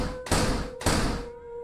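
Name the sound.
knocking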